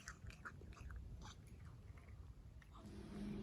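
A cat chews grass nearby, making soft, irregular crunching bites in a quiet outdoor setting, with a low hum rising near the end.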